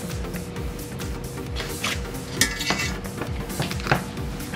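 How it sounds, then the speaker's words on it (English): Cookware clatters as a pan goes into a skillet and a warm oven while prepping oven-fried pork chops, with steady clinks and knocks of metal pots and utensils throughout and a few sharper bangs near the end. "So I'm gonna take a little bit of that and put it in the skillet."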